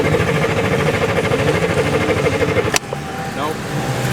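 A flooded snowmobile engine with fouled spark plugs cranks steadily and repeatedly but fails to catch, a loud continuous mechanical churn that cuts off abruptly near the end, with a short quieter tail and voices present.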